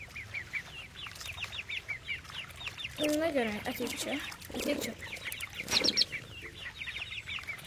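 Chickens cluck and peep in the cat-simulation video game I Am Cat, with rapid high chirps through the first seconds and scattered calls later, mixed with a person talking in the foreground.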